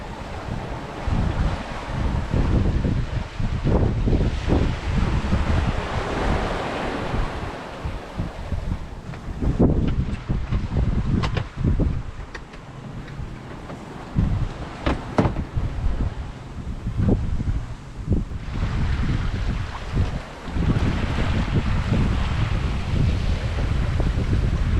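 A sailboat on the Saint Lawrence moves through short, choppy waves in steady wind, with continuous rushing water and wind buffeting the microphone, punctuated by sharp slaps and knocks of the hull and rigging.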